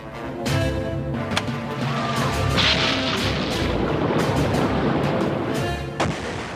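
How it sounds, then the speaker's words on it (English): The torpedoed fuel tanker SS Gulf America explodes offshore after a U-boat attack, with deep booming blasts and a rolling, crackling rumble that stays loud and continuous throughout. "When the people heard the explosion and saw the fire offshore"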